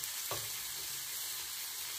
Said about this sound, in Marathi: नंतर यामध्ये हे बारीक चिरलेले टोमॅटो टाकून द्यायचे